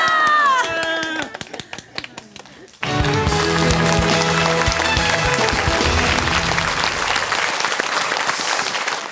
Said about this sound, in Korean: 저기 박수 좀 쳐줘요. 박수, 박수.